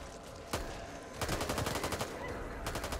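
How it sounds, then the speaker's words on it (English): Gunfire in the video game Back 4 Blood comes as a single sharp shot followed by rapid bursts of automatic fire, loud and close, with no talk. "Technically, our gunfire should alert the birds"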